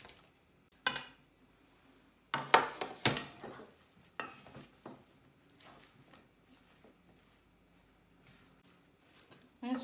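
Cooked roasted vegetables, chilled, tipped into a salad bowl for an oriental-style salad, giving scattered soft clatters and scrapes in short bursts, moderately close, with quiet gaps between and no talk.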